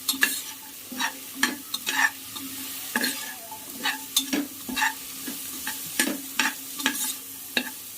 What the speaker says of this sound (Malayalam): ആദ്യം നമുക്ക് കോളിഫ്ലവർ ഇട്ട് കൊടുക്കാം. അതും ഒന്ന് ഇളക്കാം.